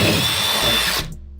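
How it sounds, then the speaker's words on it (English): A power drill bores through a wooden rafter, a loud close whine that cuts off abruptly after about a second, followed by a short fading tail. "and just drill through"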